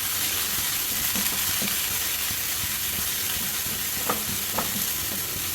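Greens sizzle while being stir-fried in a pan for a simple homestyle dish, a loud, continuous hiss with a few soft stirring clicks and brief pops near the end.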